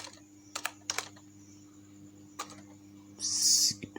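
A few separate keystrokes tap on a computer keyboard while a word is entered in a text editor to test autocorrect, faint and spaced out over a quiet hum, ending in a brief brighter electronic tone.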